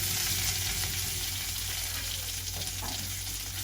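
Food frying in oil as carrots are stirred and tossed in a pan, a dense continuous sizzle that stays loud and close, with faint scraping from the stirring.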